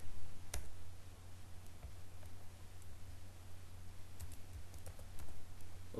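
Sparse, light keystrokes on a computer keyboard tap out a file name, with a few scattered clicks over a constant low hum of room noise and no talking.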